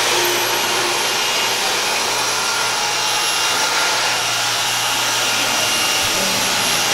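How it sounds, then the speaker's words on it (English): A hair dryer on its lowest heat and fan setting blows in a steady, unbroken airy hiss with a faint motor hum underneath, constant and fairly loud throughout. "I'm gonna use the dryer on the lowest heat setting and the lowest fan setting."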